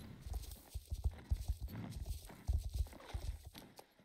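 Horse hooves clip-clop in the Star Stable Online video game, a loud, close series of hollow thudding steps in an irregular walking rhythm.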